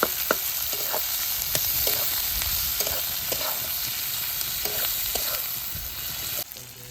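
Chicken kasa fries in a pan with a continuous close sizzle, punctuated by repeated spatula scrapes and taps as it is stirred, with the hiss dipping just before the end.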